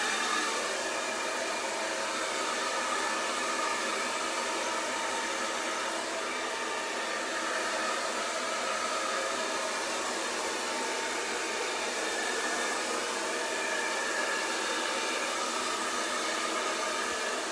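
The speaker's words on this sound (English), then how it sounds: "So heat off, speed up, hold the cold shot." A hair dryer blows continuously at high speed on its cold shot setting, a steady, loud, close rushing whoosh that holds unchanged throughout with no voices.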